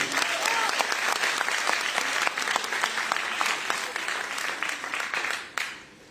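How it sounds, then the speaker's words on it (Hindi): Loud, continuous audience applause at an International Women's Day celebration, with crisp individual claps punctuating the roar before it drops off sharply near the end. "एक बार तालियां होनी चाहिए गोवा चिल्ड्रंस के लिए"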